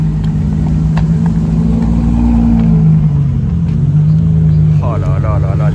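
Ferrari Monza SP2 cars pulling away at the start of a rally in the south-west, a loud, steady engine rumble with rising revs throughout, and voices faintly present underneath.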